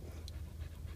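A dog locked inside a car pants in quick, close, rhythmic breaths over a low rumbling background, with no talk.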